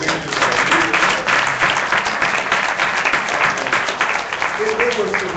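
Sustained audience applause fills a bar association seminar hall, dense steady clapping from a large crowd lasting several seconds, with scattered voices mixed in beneath.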